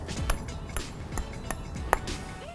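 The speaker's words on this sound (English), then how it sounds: "That is the sound of perfect crispness." Crispy skin of a deep-fried whole fish tapped several times, giving light, sharp clicks at uneven intervals with one louder crackly tap near the end, fairly close in a quiet kitchen.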